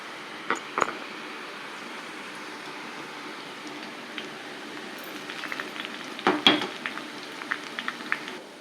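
Omapodi dough pressed into hot oil for frying, a faint, steady bubbling crackle throughout with scattered pops, one knock near the start and a louder clattering burst of pops and clicks near the end.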